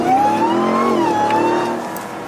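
A Ram TRX engine fitted with a JMB intake roars at full throttle, a loud close sustained growl with the pitch climbing and wavering as it pulls, with no talking over it.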